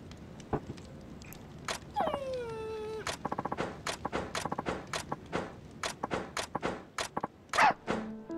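A dog whimpers in the video game Like a Dragon: Ishin!, a drawn-out, falling whine near the start followed by shorter yelps and whimpers mixed with footsteps and scuffling thumps.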